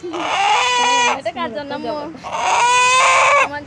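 A rooster being kept for slaughter calls loudly and close by in two long, strained bursts with a short break between them.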